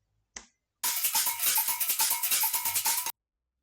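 Brazilian samba agogo sample looped in a hardgroove techno track: a single short hit, a pause, then a fast, steady run of bright metallic bell strikes with a ringing tone for about two seconds, close and clean.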